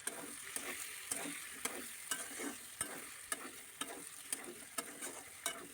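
Fried soybean chunks sizzle in a pan with browned onion, ginger and garlic for a soybean curry, with a steady frying hiss and a regular spatula scrape roughly every half second, close up and with no talking.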